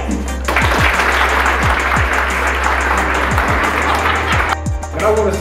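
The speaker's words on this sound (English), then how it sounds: "please join me in giving a round of applause to our two guests" Applause from a school audience at a grant announcement event, a steady wash of clapping for about four seconds under a low hum, with a few scattered loud claps on top before it fades out.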